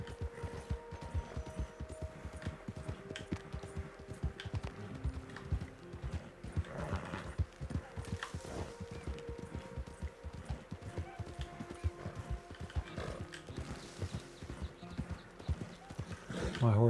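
Horse hooves clip-clopping steadily at a walk in the video game Red Dead Redemption 2, with an occasional whinny, while someone talks over the rhythmic footfalls.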